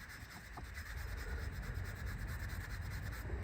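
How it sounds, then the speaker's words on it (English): A Scotch pad scrubs the rear brake hub of a 2004 Mini during a disc and pad change. The rubbing is continuous and faint, with no talk. "We're going to get a Scotch pad on that and rub that all down."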